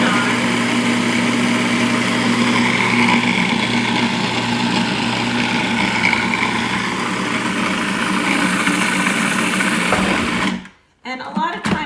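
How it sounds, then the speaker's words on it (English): Food processor whirring steadily as it blends ramp pesto with olive oil, a continuous loud motor drone for about ten seconds before cutting off abruptly, followed by faint clatter. "when you're using a food processor, you have to scrape the sides down"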